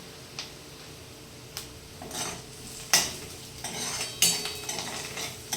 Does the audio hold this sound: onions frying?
yes